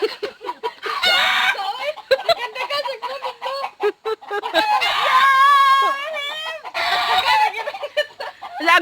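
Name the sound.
hen clucking after laying an egg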